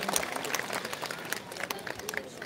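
A crowd at a traditional Circassian cultural festival claps in a faint, scattered patter, heard at a distance under a thin layer of background voices.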